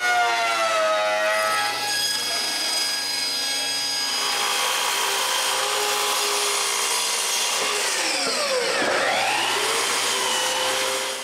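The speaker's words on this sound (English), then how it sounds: "So the first thing to do is to surface enough pine boards for the top and bottom of the rack." A planer surfaces pine boards for a fishing rod rack with a loud, steady machine whine whose tone shifts as each board feeds through, a sustained drone with no talking.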